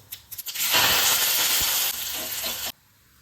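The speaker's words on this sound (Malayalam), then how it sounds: "ഇതിപ്പം നെയ്യിലാണ് കടുക് വറക്കുന്നത്" A loud burst of sizzling as mustard seeds hit hot ghee, hissing strongly for about two seconds and then cutting off abruptly.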